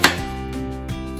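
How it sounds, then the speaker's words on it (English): A knife slices down through a raw beet on a cutting board, a sharp initial chop followed by two softer cuts at an unhurried pace, close and clear against a steady background hum. "it's easy to put that flat edge down and keep cutting your beet up"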